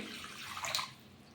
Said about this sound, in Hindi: इसमें डालेंगे हम 1 लीटर पानी।